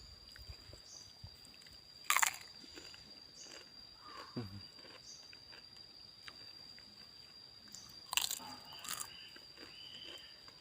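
Crispy fried wontons crunch between the teeth, two brief, crackly bites several seconds apart over a faint, quiet background with low outdoor hum.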